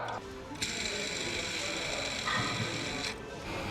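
A car's timing-belt water pump, its bearing seized with signs of corrosion and crystallisation inside, is turned stiffly by hand, giving a dry grinding, ratcheting rasp that runs continuously at close range with no talking.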